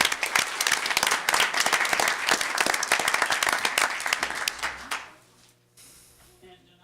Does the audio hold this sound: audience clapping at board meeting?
yes